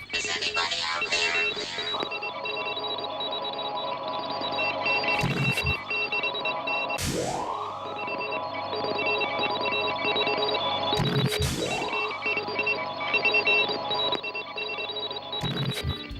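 Looping menu audio from a Doctor Who Lost Interviews DVD: a faint, continuous electronic drone with high tones, interrupted by repeated sweeping whooshes and bursts at irregular intervals.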